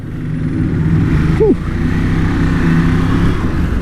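A KTM Duke motorcycle engine runs close by in a steady, continuous low drone, unchanging for the whole stretch.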